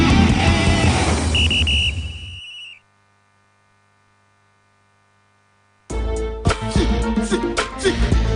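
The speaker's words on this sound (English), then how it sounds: "there goes the whistle for us right here on Just Football" A referee's whistle sound effect opens a radio football show, a steady shrill tone lasting about a second over dense music-like sound, followed by a few seconds of near silence and then a loud burst of busy sound.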